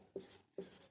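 An equation being written by hand during a class 10 maths lesson, two short soft marker or pen strokes, faint and close, with no talk.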